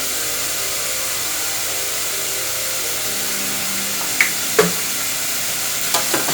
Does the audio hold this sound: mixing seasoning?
yes